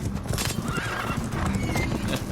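Horses in a Game of Thrones scene neigh loudly in a long whinny while hooves clip-clop and gallop underneath, close and busy throughout.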